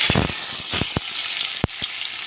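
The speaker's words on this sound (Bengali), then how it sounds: "এখন দিয়ে দেবো এখানে কিছুটা পেঁয়াজ কুচি।" Chopped onions hit hot oil in a wok already seasoned with black cumin seeds, giving a loud, steady sizzle with several sharp crackles and pops close by.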